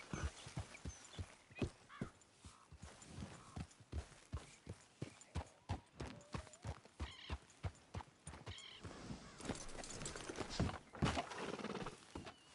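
A horse in the Red Dead Redemption 2 video game trots along, hooves clip-clopping in a steady close rhythm, with a brief whinny and light ambient game sounds, no talking.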